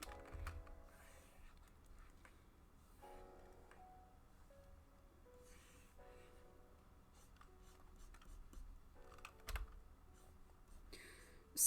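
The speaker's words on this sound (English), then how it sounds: "Sorry if you can hear my keyboard" Computer keyboard typing, faint irregular clicks and short bursts of keystrokes continuing over several seconds in a quiet room, with a soft low hum underneath.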